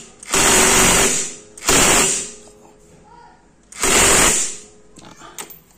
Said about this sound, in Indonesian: Pakai impact ya, buka pasangnya.